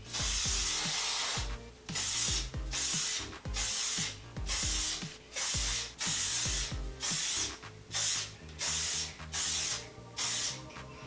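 Neutrogena Micro Mist airbrush sunless tanning spray hisses in about a dozen short, evenly spaced bursts, close and fairly loud, with brief pauses between each spray.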